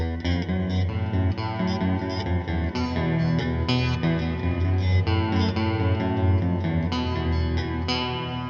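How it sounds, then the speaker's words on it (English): Guitar played through a multi-mode reverb pedal set to its modulate mode, giving a shimmering chorus-like wash over sustained chords and notes; loud, dense and continuous with no talking. "Modulate gives you that little bit of like a chorusy sound, I guess."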